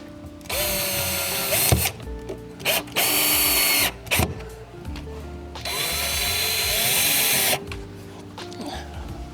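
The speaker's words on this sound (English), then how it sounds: "I'll go around to the back of the cabinet and just put a couple of screws in the back." A power drill drives screws into the back of a trash can cabinet: several loud whirring bursts of a few seconds each, separated by short pauses and clunks, close up.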